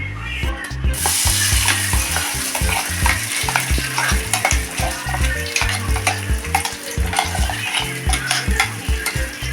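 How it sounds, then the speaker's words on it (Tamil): Ground mint coconut chutney is stirred in a hot sizzling pan, loud and close, with a spoon knocking and scraping in a quick, regular rhythm over a constant fry. "இப்போ நம்ம அரைச்சி வச்சுருக்கிற சட்னியை இதில் சேர்த்துக்கலாம்"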